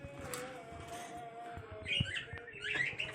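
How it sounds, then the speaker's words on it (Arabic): Java sparrow chirping, faint, quick high chirps bunched toward the end over a quiet room hum. "ده عصفور اسمه جاوة"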